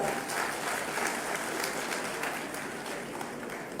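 A large audience at a public gathering where Odisha's Mohan Majhi is being praised breaks into steady, dense applause that holds at an even level throughout, with no talk over it.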